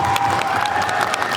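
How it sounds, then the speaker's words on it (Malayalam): An audience applauds at a film promotion event, with dense clapping and a faint crowd murmur filling the space at a steady, fairly loud level. "ഇത്രയും കയ്യടി പോരാ, ഞാൻ പ്രതീക്ഷിക്കുന്നത് ഇത് കൂടുതലാണ്."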